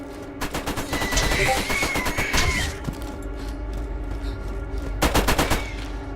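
Turrets firing in the video game Borderlands, sustained rapid machine-gun bursts in a fast rhythm, loud and near, with a brief lull before a second heavy volley.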